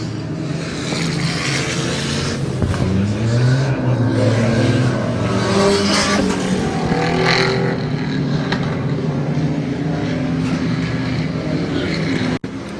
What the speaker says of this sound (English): Alan Filkins has a pretty hefty lead over JT coming around for lap number 6.